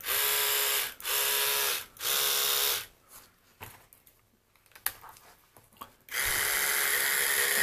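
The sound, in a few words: small electric motor running at about 1.1 volts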